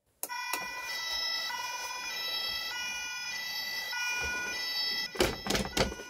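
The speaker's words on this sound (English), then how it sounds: "You also have a siren." The electronic siren of a Playmobil 71233 toy fire truck wails in a repeating two-tone pattern, steady and close, ending with a few clicks and knocks as it is handled.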